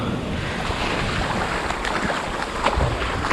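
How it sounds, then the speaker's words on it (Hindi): Ocean surf rolls steadily onto the sand at Agonda Beach in South Goa, a broad, continuous wash of breaking waves mixed with wind rumble on the microphone, loud and close, with no voices. "ये जो वेव्स की साउंड आती है ना ये बड़ी मस्त आती है"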